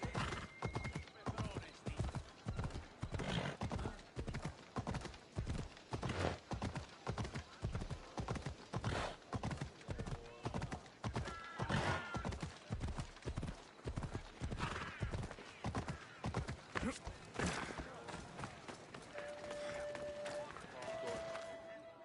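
A horse gallops in Assassin's Creed Odyssey, its hooves clip-clopping in a fast, steady rhythm close by for the whole ride, while voices talk over the hoofbeats.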